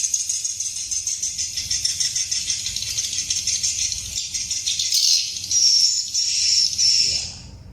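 High-pitched, rapid rattling chirps play continuously from tweeter speakers at a swiftlet farm, a dense buzzy twitter of swiftlet calls, growing shriller near the end before fading.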